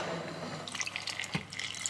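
Excess water poured out of a measuring jug down to 425 ml for bread dough, a brief close splash and trickle with drips over a couple of seconds.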